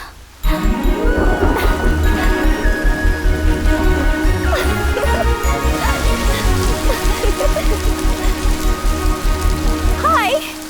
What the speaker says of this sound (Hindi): जाते वक्त जो बारिश आनी चाहिए थी वो लौटते वक्त आ गई